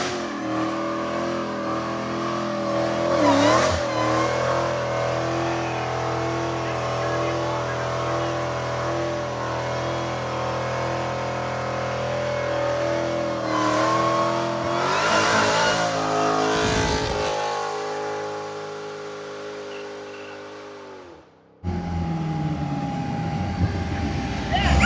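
A Dodge Demon 170 V8 revs hard and sustained as its rear wheels spin in place, the loud engine roar rising and falling for about twenty seconds before cutting off, with voices speaking over it.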